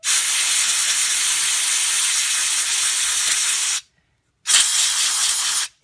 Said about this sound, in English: spray all that down with air, get it all cleaned off